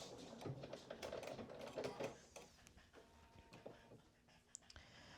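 A sewing machine stitches down the front edge of a vest in several short, quiet mechanical runs, whirring and stopping with small pauses between bursts.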